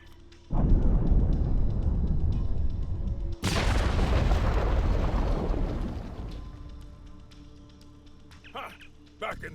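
An explosion in the Star Trek Online video game, a loud booming blast with a rumbling tail, followed by a second sharp detonation that slowly fades, with some faint game sounds afterward.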